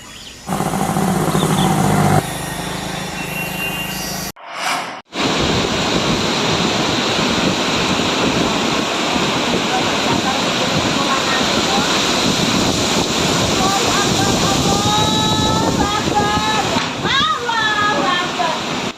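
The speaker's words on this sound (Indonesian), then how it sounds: "Suara gemuruh angin kencang menyebabkan warga panik." Strong roaring wind sweeps through a village in Tulang Bawang, Lampung, during a storm that toppled trees. It sounds loud and turbulent, with a continuous rushing roar that briefly cuts out partway and then returns at full strength.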